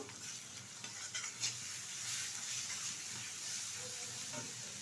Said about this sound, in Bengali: দিয়ে দেব কিছুটা আদা বাটা দিয়ে দিচ্ছি কিছুটা রসুন বাটা এখন ভালোভাবে এটা কষিয়ে নেব